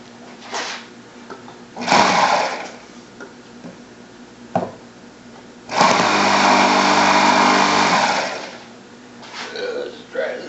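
A model propeller engine runs on an engine run day with a rapid, buzzing, high-pitched drone that revs in short bursts and then holds a sustained loud run, with people talking nearby.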